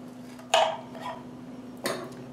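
A knife chops a pineapple shell into small chunks with two sharp, separate cuts against a hard surface, close and clear over a faint steady hum.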